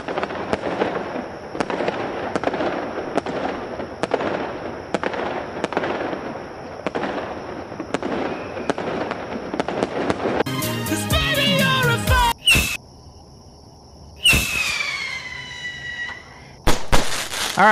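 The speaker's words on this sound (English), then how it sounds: "Wow, what an exciting firework display I'm putting off over here." A 4th of July fireworks display sets off a rapid string of loud crackling firecracker bursts, then sharp pops and whistling, fizzing rockets with brief gaps, close and alone without talk.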